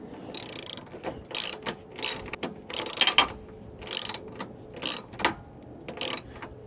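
Ratchet clicking in short bursts while tightening a bolt on a Dodge Ram during a lamp repair, about eight quick runs of close, crisp pawl clicks separated by brief pauses.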